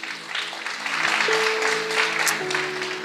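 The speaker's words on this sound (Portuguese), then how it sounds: "Você pode aplaudir o Senhor?" A church congregation claps during a Christmas service, a moderate wash of applause that swells and holds while a sustained organ-like tone runs beneath it.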